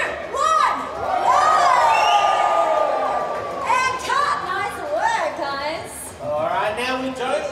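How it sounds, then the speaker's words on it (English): A crowd of film extras cheers and whoops as if watching a race, loud sustained shouting from many voices with rising yells and children's cries mixed in. "Cheer and react to the action as if you were really at the race"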